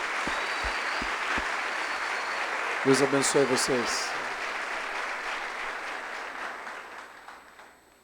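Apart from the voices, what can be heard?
church congregation applauding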